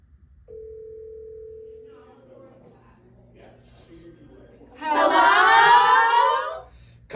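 A steady telephone dial tone sounds for about a second and a half as a call is placed, followed by muffled noises and then a burst of louder crowd-like voices.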